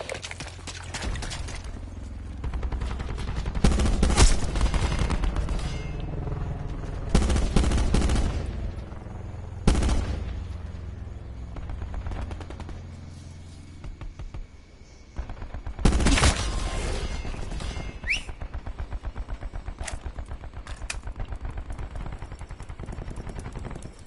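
Rapid bursts of light machine gun fire in Call of Duty Black Ops 4 multiplayer, loud and close, coming in several sustained volleys separated by brief pauses, with other game effects mixed in.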